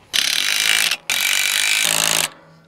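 A ratchet wrench tightens the single bolt on a Black Max Universal Coupler in two quick, loud, close-up bursts of rapid clicking with a short pause between them.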